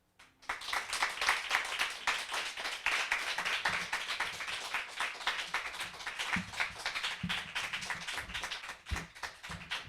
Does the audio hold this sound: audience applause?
yes